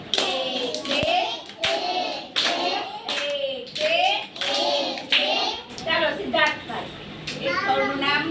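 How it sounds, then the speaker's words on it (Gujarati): Preschool children at an anganwadi clap their hands in a steady counted rhythm, bursts of claps mixed with a teacher's voice and children's chanting throughout. "ચલો પાછા તાળી પડો"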